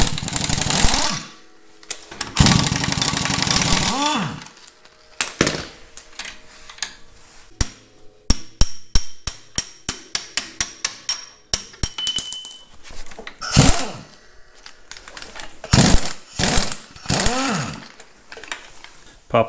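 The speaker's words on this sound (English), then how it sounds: "you're probably going to see me using an impact wrench on undercarriage more than anything else" Impact wrench removing undercarriage idler yoke bolts on a Caterpillar D2 crawler tractor: loud repeated rattling bursts, then a fast run of sharp hammering pulses, then more bursts, some clanking in between.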